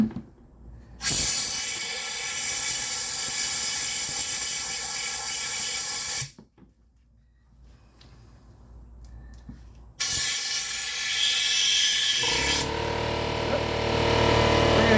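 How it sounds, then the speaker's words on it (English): Compressed air hose blasting through a car A/C line in loud, steady hissing bursts, one long blast, a brief pause with low noise, then a second sustained blast close to the mic. "I'm going to take my air hose and I'm going to blow this thing clean"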